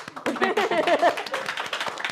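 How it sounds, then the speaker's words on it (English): An audience claps a round of applause during an interview, with a burst of dense, irregular clapping rising after a brief voice at the start and continuing steadily to the end. "let's give him a round of applause"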